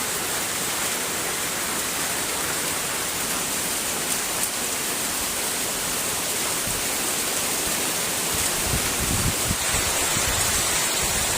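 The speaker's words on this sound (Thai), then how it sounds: "เสียงฝน" Heavy rain pours steadily through the night over a hammock campsite, a dense, unbroken hiss that stays loud and close with no voices.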